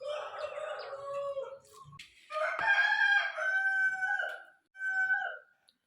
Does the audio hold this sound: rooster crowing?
yes